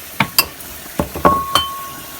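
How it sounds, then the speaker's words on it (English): Cooked crab meat is stirred into a bubbling pot of gumbo, with a spoon scraping and clinking against the pot several times over a steady simmering sizzle. "Stir it around a bit."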